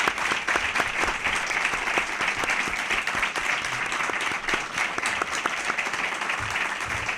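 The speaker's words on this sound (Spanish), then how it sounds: "un fuerte aplauso por parte del público" An audience at a charity talk event applauds, a dense, steady wash of clapping from many hands that holds evenly throughout without letting up.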